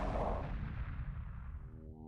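Space warships in the Homeworld game open fire on a derelict hulk, a heavy booming weapon blast that rumbles and trails off into a low fading roar, then a faint tonal hum.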